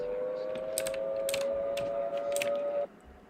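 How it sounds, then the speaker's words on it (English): A steady tornado siren wail in a video game drones under rapid keyboard clicks and typing, then cuts off near the end. "I can hear those tornado sirens."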